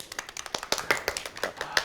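A small forum audience claps for the announcer, sparse and uneven, with individual sharp hand claps standing out distinctly and close, thinning irregularly over a couple of seconds.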